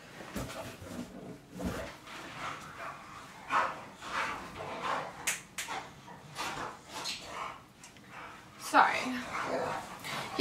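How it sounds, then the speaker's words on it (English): Several dogs indoors bark, yip and whimper in short bursts scattered through the clip, fairly faint and under a person talking. "Those are my dogs."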